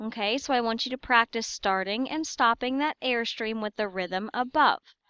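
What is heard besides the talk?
No distinct noise like a dog, phone or traffic.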